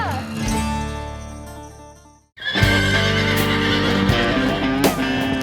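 A horse whinnies loudly up close with a long, wavering neigh, then after a brief pause its hooves clip-clop alongside further snorts and whinnying noise.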